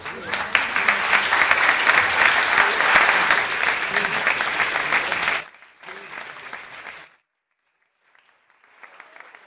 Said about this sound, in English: Are you clapping because of what he said, or because you think it's the end?